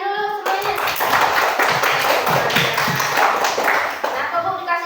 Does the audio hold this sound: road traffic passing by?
no